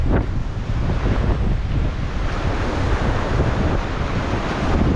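Waves pounding the shore and strong wind during Typhoon Kristine: continuous loud surf roar mixed with buffeting wind noise on the microphone, steady and close.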